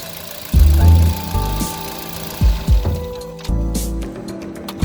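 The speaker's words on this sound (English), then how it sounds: "The engine start one click." A Hyundai i20 engine, fitted with a new timing chain, cranks and catches in several short starts, each a loud burst of mechanical rumble separated by brief pauses, close up with no talking.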